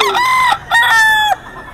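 Fighting roosters crowing at a cockfighting gamefowl lineup, two loud close crows with harsh rising-falling calls broken by a brief pause, no talk.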